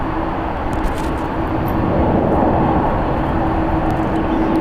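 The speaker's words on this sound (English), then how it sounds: "We got WestJet flight 1774 coming in from Vancouver. It's a 1 hour and 53 minute flight on a Boeing 737 MAX 8" A WestJet Boeing 737 MAX 8 arriving at San Francisco International Airport, its engines a sustained low rumble with a faint steady tone, swelling slightly midway and staying constant without talk.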